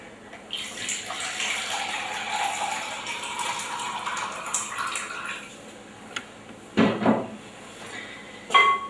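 About one and a half cups of warm water pour steadily into a bowl of no-knead bread dough mix for several seconds. A couple of sharp clinks follow near the end.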